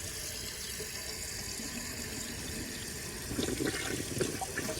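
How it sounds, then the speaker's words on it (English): Water runs into the bowl of a 1971 American Standard Cadet toilet, a soft, steady trickle that grows into louder splashing partway through. "I just need to add some water to the bowl."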